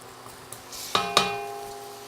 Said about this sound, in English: give it a little stir with a green spatula